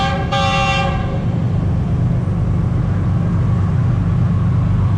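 The Karakoram Express passes close at Chak Jhumra, overtaking with a brief horn blast at the start followed by a loud, continuous rumble of rail cars rolling by.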